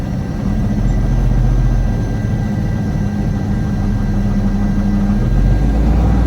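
Engine running loud and steady as throttle is applied, a heavy low rumble that swells slightly and holds, with no talking over it.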